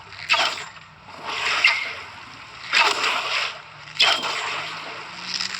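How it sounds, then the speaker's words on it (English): Repeated splashing hits of water bolt spells landing on a player in the Ashes of Creation video game, about four distinct watery impacts spaced roughly a second apart, moderately loud against a steady game backdrop. "He's hitting you with those water bolts"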